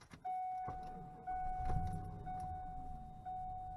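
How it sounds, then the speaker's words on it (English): A truck engine with a slight rough idle runs steadily, close by, with a constant tone and a few soft clicks and jangles over it. "There's a slight rough idle."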